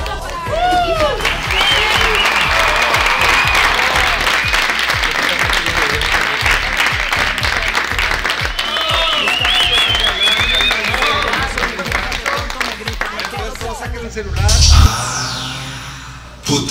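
Party guests clap and applaud at an influencer party, a dense, loud burst of clapping with cheers and voices mixed in, running steadily for most of the stretch before a sharp clattering noise and a quick fade near the end.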